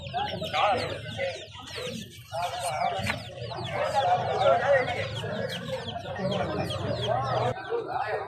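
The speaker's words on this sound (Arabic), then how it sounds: "سوق الدجاج" Chickens cluck and squawk busily throughout, with a rooster's crow mixed in, over a crowded background of voices and bustle at a Friday poultry market in Iraq.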